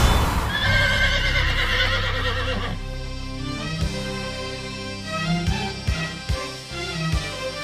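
Horse neighing repeatedly, loud and close, with a long whinny early on followed by shorter whinnies and snorts, plus thudding hoof clip-clops toward the end.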